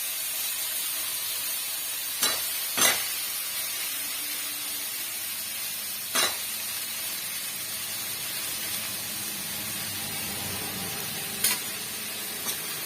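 Cut tomatoes fry in a pan of fish curry for about ten people, a steady faint sizzle running throughout with a few sharp knocks of the stirring utensil against the pan.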